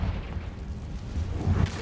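A Confringo fire spell bursts in Hogwarts Legacy, a loud, rumbling boom that swells through the short stretch and peaks near its end with dense low-end energy.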